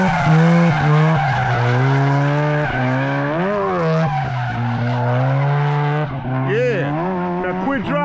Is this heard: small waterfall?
no